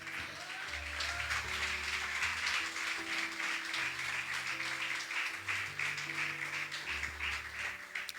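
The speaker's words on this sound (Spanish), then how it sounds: "Aplauda al Señor." A church congregation claps during a worship service, with sustained, dense applause throughout while loud music with deep bass notes plays underneath.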